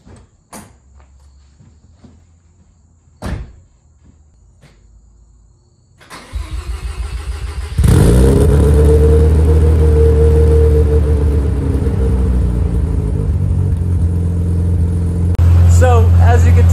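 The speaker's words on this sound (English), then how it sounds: "So this is going to be a true cold start, like a very, very cold start." A Mazda RX7 rotary engine with new headers cold-starts after a week sitting, a cranking burst giving way to a loud, steady, raspy idle that holds to the end, with faint clicks and a brief voice earlier.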